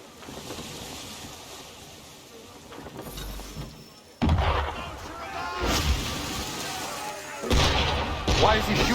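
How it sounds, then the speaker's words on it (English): Ship cannons fire at sea in Assassin's Creed 3. Two heavy booming blasts, a few seconds apart, crash over the rush of wind and waves, with voices talking in between. "Why is he shooting at us?"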